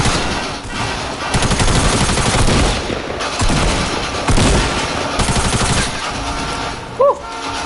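Rapid bursts of suppressed SMG gunfire in a shooter video game, fairly loud and dense across the clip with brief pauses between volleys, with scattered in-game effects and no spoken voices.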